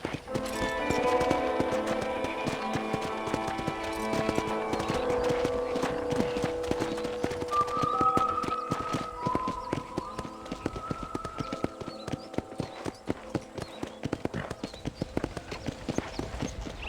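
Horse hooves clip-clop at a steady walking rhythm in Red Dead Redemption on PC, close and clear, over soft music with a brief whinny-like tone partway through.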